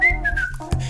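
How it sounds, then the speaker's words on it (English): A person whistles a short sliding note that drops in pitch, then a brief second note, close and clear with no talk. "So when I whistle,"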